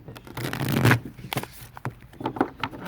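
A Sacred Traveler tarot-style deck is shuffled by hand outdoors, a close riffling burst swelling then breaking into softer scattered flicks and taps of cards.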